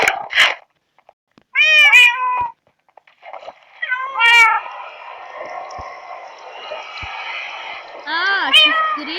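Cats meow in a Minecraft game, several high, drawn-out mews arriving in separate bursts over a low background hum, loud and close.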